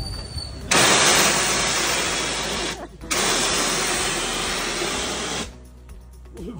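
A Mahindra Thar 4x2 engine turns over and runs in a loud, close, broadband roar that dips briefly before surging again, then drops to a quieter settled idle.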